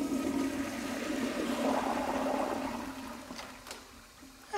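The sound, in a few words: toilet flushing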